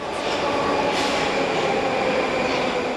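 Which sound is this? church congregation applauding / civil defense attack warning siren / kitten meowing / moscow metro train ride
moscow metro train ride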